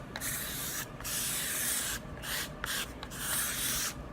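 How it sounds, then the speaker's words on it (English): Small scraper rubbing stencil transfer tape down onto a piece of wood, a close, steady scratchy swishing in repeated strokes with brief pauses between passes. "now we're gonna grab our trusted little scraper again and just"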